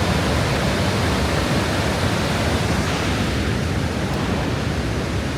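Steady, dense roar of rushing water filling the whole clip, loud and unbroken like a nearby waterfall.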